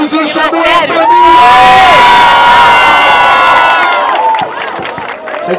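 A loud crowd at a live battle event cheers, whoops and shouts continuously, swelling and then easing slightly near the end, with a few individual yells standing out above the roar.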